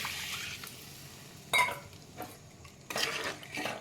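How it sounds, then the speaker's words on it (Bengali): Hot water poured into a pan of fried, spiced potatoes while cooking kofta curry, giving two short bursts of splashing and sizzling over a quiet kitchen background, with no talking. "এবার আমি একটু গরম জল দিয়ে দিচ্ছি।"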